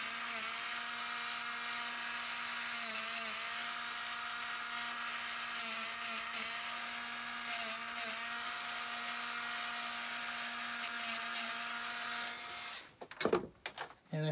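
A Dremel rotary tool grinds steadily with the tip of its bit, smoothing a burr off both sides of a fork; a continuous high whine with a steady tonal hum runs close and loud for about thirteen seconds, then breaks off into a few scrapes.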